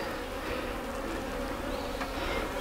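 Honeybees buzz in a loud, steady swarm drone at an open hive during a May inspection of the brood chamber, filling the clip without pause and with no talk.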